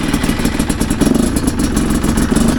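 Chinese dirt bike engine pulling away with a slight throttle hesitation, a loud, close, rough mid-pitched engine chatter with a pulsing rhythm and no voices.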